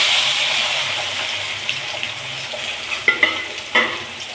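Chopped onions and tomatoes fry in a pan for South Indian sambar, giving a steady sizzle with a few sharp clinks of stirring toward the end.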